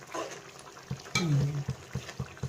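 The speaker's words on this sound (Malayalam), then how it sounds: "അപ്പോൾ നമുക്കത് ചെറുതായിട്ടൊന്ന് ഇളക്കിയിടാം" A spoon scrapes and stirs through a simmering pan of Kerala-style egg curry, with soft sizzling and a few light knocks against the metal.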